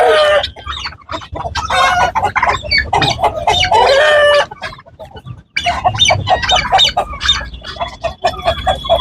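Guinea fowl and other poultry calling on a rooftop, loud and close with dense overlapping clucks, squawks and a crowing call in repeated bursts, a brief lull midway.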